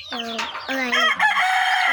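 Chickens cluck and call up close, a few short squawking bursts in quick succession.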